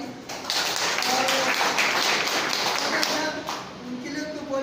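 An audience at a gathering breaks into loud, sustained applause, a dense wash of clapping that fills the whole stretch and eases slightly toward the end.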